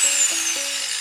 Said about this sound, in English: that thing works good on grinding off rust